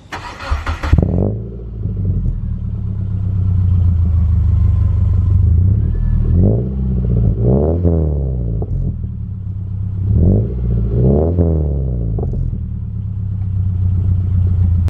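A Subaru Hawkeye car starts up and drives, its engine and exhaust rumbling up close with several rising revs as it accelerates through the gears, no talking.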